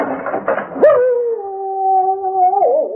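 A dog in a radio drama whimpers briefly, then lets out a long, sustained howl that holds steady before bending into a final wavering whine, close and clear with no talk over it.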